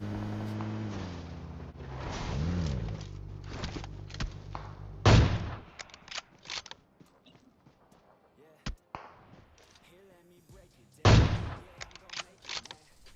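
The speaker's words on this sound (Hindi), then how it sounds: "और यहाँ पे यार स्नाइपर वर्सेस स्नाइपर चल रहा होता है।" Sniper rifle fire in an online shooter video game, with a couple of loud sharp shots standing out among scattered clicks, impacts and a low engine-like drone at the start.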